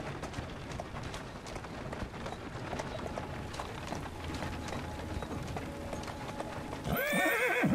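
In a video game, steady clip-clop of galloping hooves with clattering mechanical noise throughout, ending in a loud, close horse whinny.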